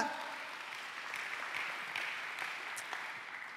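A church congregation claps, a soft, steady wash of many hands that fades slightly toward the end, heard at a moderate distance.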